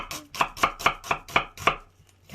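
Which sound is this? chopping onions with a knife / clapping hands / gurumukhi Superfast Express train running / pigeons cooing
chopping onions with a knife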